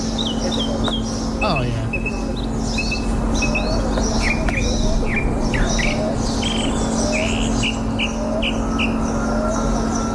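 Many birds chirp and sing in an outdoor setting, with frequent short tweets and calls in a steady background chorus, while a person speaks briefly over them.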